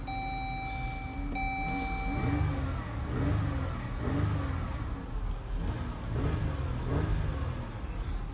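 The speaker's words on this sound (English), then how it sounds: "Here, we'll get a revving clip of it." A 2017 Chrysler Pacifica engine revs repeatedly, several rising and falling blips of exhaust roar in a loose rhythm, preceded by electronic chimes inside the car.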